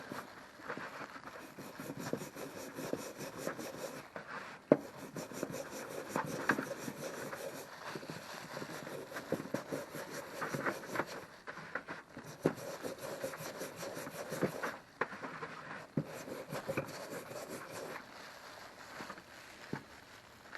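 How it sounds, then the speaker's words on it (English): A rusty railroad spike pulled up while magnet fishing is scrubbed, making a steady, quiet rasping rub that runs on continuously with short pauses. "Give it a little bit of a scrub."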